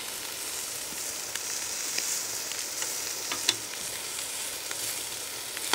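Shrimp sizzle in a cast iron pan with a steady, close hiss, broken by faint pops and light utensil ticks, alone without talk.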